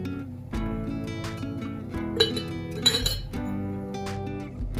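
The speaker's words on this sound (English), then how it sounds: "Now I'm going to put my lemons, slices." Lemon slices dropping into a glass of iced tea, with several clear clinks of glass and utensils ringing out over soft kitchen background.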